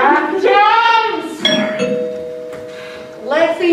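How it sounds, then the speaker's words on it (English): A doorbell rings at a house while people talk, its chime ringing out in a steady held tone between the voices, fairly close and clear. "Why would they ring their own doorbell?"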